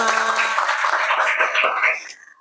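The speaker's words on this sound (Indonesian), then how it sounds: "Kasih tepuk tangan dong kelompok 5." A classroom of students claps for group 5 after a Quran recitation, a short burst of mixed clapping and voices that fades out near the end.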